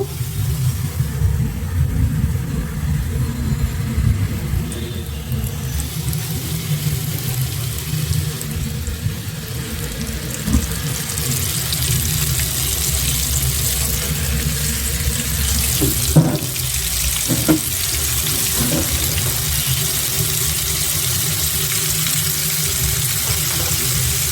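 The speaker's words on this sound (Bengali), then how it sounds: "এবার আমি মাংসগুলি নিয়ে ময়দাটা ঝরিয়ে তারপর তেলে দিয়ে দিব" Flour-coated chicken pieces fry in hot oil in a pan over low heat, giving a steady, continuous loud sizzle and hiss with a few faint clinks, with no talk.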